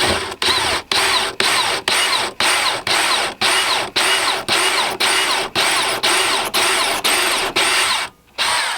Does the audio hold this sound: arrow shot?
no